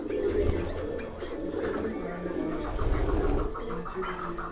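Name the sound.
pigeons cooing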